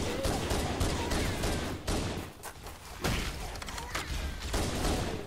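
Rapid gunfire from Halo CE rattles in near-continuous bursts of loud automatic shots and impacts, with brief lulls before the firing resumes.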